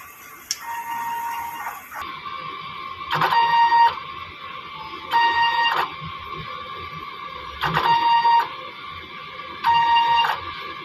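A DTF printer runs steadily with a mechanical hum, broken by four regular bursts of whirring print-head carriage movement, close and clear.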